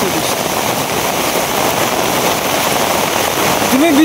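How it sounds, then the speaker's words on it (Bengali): Heavy rain pours down steadily, a loud, dense, unbroken wash of drops close by with no let-up, briefly joined near the end by a faint voice. "দেখো জুমছে বৃষ্টি নামছে"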